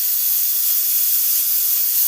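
A pressure cooker lets out a steady, loud hiss of steam, unbroken and without speech, while dal cooks inside.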